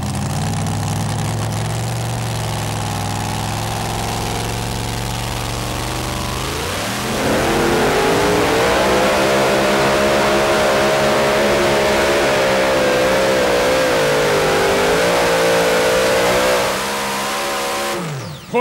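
A modified two-wheel-drive pulling truck at a 2008 truck and tractor pull in Fairfield, Illinois, idles loudly, then roars up to wide-open throttle and holds a strained, droning high-rev howl for the rest of the pull.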